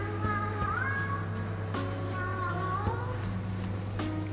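A cat meows several times, short and medium-length calls, close by over a steady low hum indoors.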